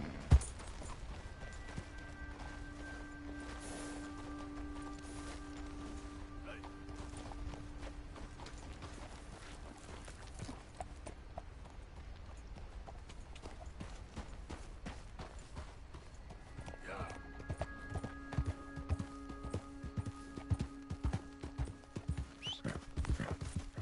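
Horse hooves clop in a steady rhythm at a moderate distance in the video game Red Dead Redemption 2, with a faint whinny and low background hum, no talking.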